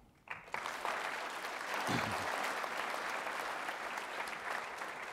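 An audience at a Medal of Honor forum breaks into sustained applause, dense clapping rising quickly and holding steady throughout.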